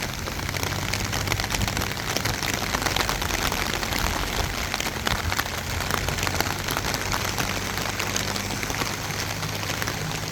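A rain shower comes down over pepper furrows, a loud, continuous spatter of drops near at hand that holds steady from start to finish.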